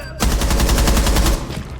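Rapid automatic gunfire from a gunfight in Rainbow Six Siege, a loud, fast burst of about a dozen evenly spaced shots lasting just over a second, with no talking.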